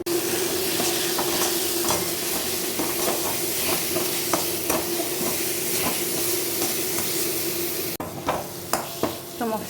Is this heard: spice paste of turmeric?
yes